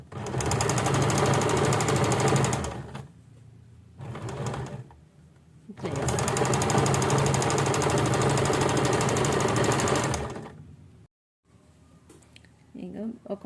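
A sewing machine stitches piping onto a blouse jacket in quick mechanical bursts: a three-second run, a brief one-second spurt, then a longer four-second run, with quiet pauses between them.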